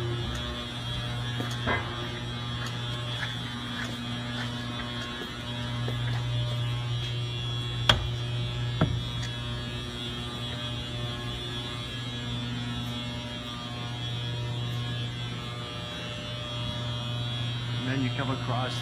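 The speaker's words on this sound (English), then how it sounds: "transfer over to the Ingersoll CM Systems Agile Variable Roll Straightening Machine" A roll straightening machine on a 6.4 litre diesel crankshaft production line runs under a steady mechanical hum and buzz, with occasional sharp clanks and knocks rising above the constant drone.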